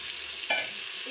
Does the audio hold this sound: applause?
no